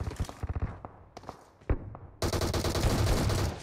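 Rapid gunshots from BGMI, the battle royale video game, crack in quick bursts at first, then merge into a dense, continuous stream of automatic fire.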